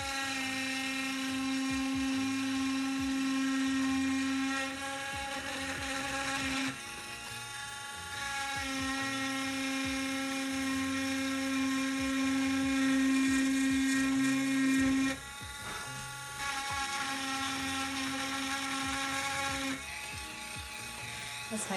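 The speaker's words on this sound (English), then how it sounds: "So when using the Dremel, I'm just gonna wanna go around the black edges." Dremel rotary tool working around the blackened edges of a woodburned nature scene: a steady, high-pitched motor whine that runs in several-second stretches, breaking off and restarting, close up over a constant mechanical background.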